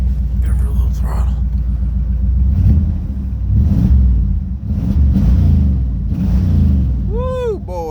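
A 1995 Pontiac Firebird Formula with an LT1 V8 and T56 gearbox, recently revived after sitting, rumbles steadily at close range as throttle is blipped, the engine note swelling and easing across the clip with someone talking over it.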